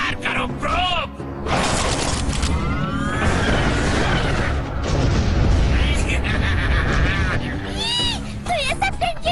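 Cartoon robot Probe fires a barrage of bullets, a dense run of booming, shattering bursts and mechanical clatter mixed with whooshing effects and speech across the whole stretch.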